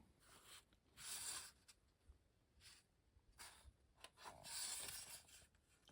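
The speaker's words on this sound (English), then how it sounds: "Get all the screws out." Small screws being backed out of a Yuxiang UH-1D RC helicopter, heard as a close, quiet series of rasping, scratchy turns coming in separate bursts with short pauses between them.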